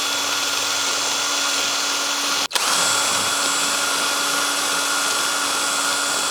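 A power drill spins a roll of sandpaper clamped in its chuck with a steady high whine, cutting out for an instant midway before resuming at full speed.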